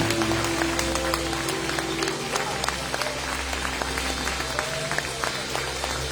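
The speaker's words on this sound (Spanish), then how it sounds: "Denle gloria al Señor con un aplauso." A church congregation applauds together, a steady wash of clapping with a low hum of music or organ underneath and some voices mixed in.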